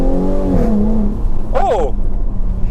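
A Jaguar F-Type 340 hp engine revs up and settles, then gives a sharp second throttle blip, loud and close, with voices faintly around it.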